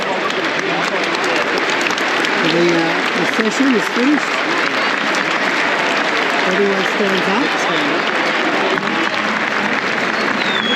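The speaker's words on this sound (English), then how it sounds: "So what you're about to see, the ground will clap." A cricket crowd at the MCG applauds during an India v Australia Boxing Day Test, steady dense clapping from a large stadium audience lasting throughout, with a person talking over it.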